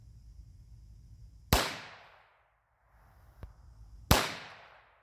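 Two sharp, loud gunshots ring out a few seconds apart, each cracking into a metal car hood, with a faint tick between them and quiet outdoor air otherwise.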